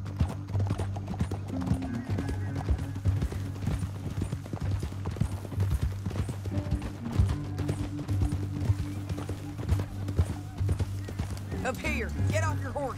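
Horse hooves clip-clop at a steady rhythmic gait in the video game Red Dead Redemption 2, continuous and close, with a whinny near the end and game music beneath.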